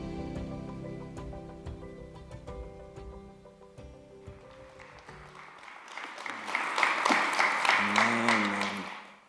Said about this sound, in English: That applause you just gave, people will be applauding you.